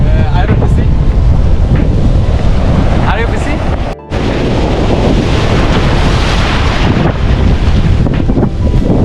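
Loud, rushing sea surf at Alleppey Beach in Kerala, India, with wind buffeting the microphone, waves washing in continuously with a brief cut midway; faint voices may be mixed in.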